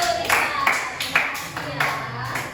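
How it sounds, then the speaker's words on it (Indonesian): A small classroom group claps for a student in a few uneven bursts of hand claps, close and fairly loud, with a voice speaking over them. "Ini tepuk tangan untuk Rita."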